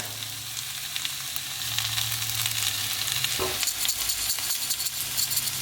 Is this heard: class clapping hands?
no